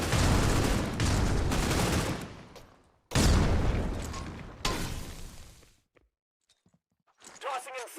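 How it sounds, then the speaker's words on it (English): Frag grenade blasts and heavy gunfire roar loudly in a Polaris Champions 2025 esports playoff match, NoMercy versus Exotic EU: two dense explosive bursts, a third fading impact, then near silence before brief voices. "Throwing frag! Tossing frag!"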